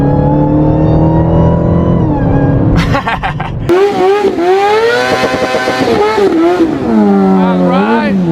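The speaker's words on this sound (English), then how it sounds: "let's give you guys that cold start y'all love to hear" A Dodge Charger Hellcat SRT cold starts and revs, its engine climbing and falling in loud, close pitch sweeps with a sharp rise partway through. A voice talks over it.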